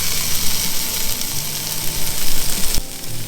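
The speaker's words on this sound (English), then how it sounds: "So when you're cooking this bacon on the hot griddle pan, you want to make some nice sexy lines" Smoked back bacon sizzles on a hot griddle pan with a steady, bright frying hiss, loud and close, with faint low hum underneath and a brief sharp tap near the end.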